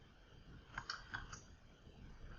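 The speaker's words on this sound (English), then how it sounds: "here I'm just going to type scatter plot of x1 and y" A few quiet keystrokes on a computer keyboard while entering code, faint clicks spaced over a couple of seconds against a soft room background.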